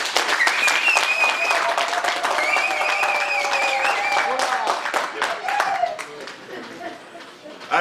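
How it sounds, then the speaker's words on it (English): Participants at an international water law training session for the Okavango River basin commission break into lively applause, close and dense with some chatter and voices mixed in, gradually thinning toward the end. "we should give ourselves a round of applause"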